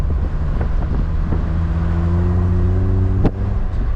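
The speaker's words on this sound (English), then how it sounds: "let's give it some beans around the corner" A Mercedes-Benz SLK200 roadster engine revs and pulls through a corner, a loud close drone with a steadily rising note and wind rush, ending in a sharp click.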